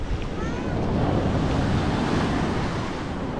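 Sea waves washing up on a crowded beach under heavy monsoon weather, a dense continuous roar of surf mixed with strong wind buffeting the microphone, no clear talking.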